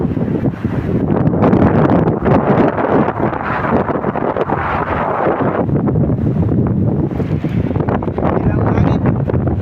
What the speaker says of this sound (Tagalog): Lakas niyang hangin.